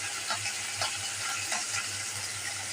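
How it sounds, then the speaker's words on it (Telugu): Guntur red chili pickle being stirred in a pan of oil with curry leaves and asafoetida, giving a faint, steady oily sizzle broken by soft, regular scraping strokes about every half second. "పచ్చడి కలుపుతున్నాను"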